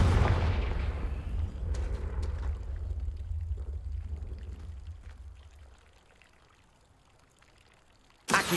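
A Confringo fire blast spell cast in Hogwarts Legacy, a heavy rushing burst that rumbles and slowly decays into quiet, followed by a sudden sharp sound at the very end.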